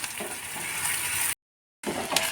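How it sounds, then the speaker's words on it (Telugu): Ground lentil paste fries in hot oil while being stirred in a pan, a steady close sizzle with light scraping, cut by a brief stretch of silence before it resumes. "ఆ పప్పులు వేస్తా బ్రౌన్ కలర్ వచ్చేంత వరకు కలపాలి మనం ఇట్లా"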